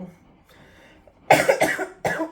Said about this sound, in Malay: masih batuk lagi